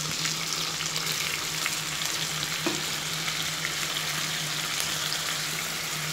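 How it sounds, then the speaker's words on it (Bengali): About half a cup of onions frying in a pan after other ingredients for a prawn malaikari, a steady even sizzle held close and constant throughout, with no voices. "পেঁয়াজটাকে ভেজে নিচ্ছি অল্প সময়ের জন্য, ব্রাউন কালার হওয়া পর্যন্ত"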